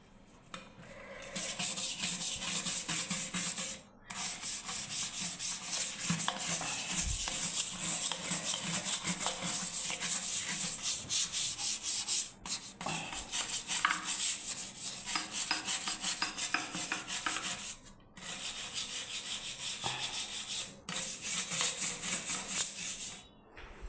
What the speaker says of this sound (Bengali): সার্ফ দিয়ে ভালো করে ঘষছি